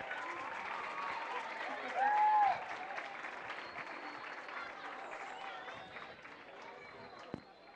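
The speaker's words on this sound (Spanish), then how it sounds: "Un aplauso, por favor." An audience at a school folk dance performance applauds, a dense wash of clapping that swells briefly and then holds steady before fading slightly toward the end.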